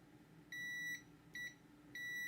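A multimeter's continuity tester gives three sharp electronic beeps of uneven length while probing the fuel gauge chip on a Nintendo Switch circuit board, against quiet background hiss.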